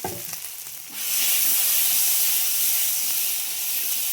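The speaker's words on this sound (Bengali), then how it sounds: "মশলা কষানো হয়ে গেছে, এবার সবজিটা সব ঢেলে দিলাম" Water chestnut vegetables poured into hot spiced oil, with a quieter sizzle that jumps to a loud, steady, hissing fry about a second in and continues up close with no talk.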